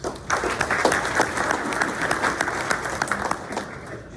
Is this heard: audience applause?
yes